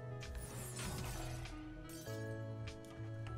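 Glass-turned enemies shattering in the video game Warframe: a cluster of sharp crashing breaks amid steady game music and tonal hum, fairly loud and layered rather than isolated.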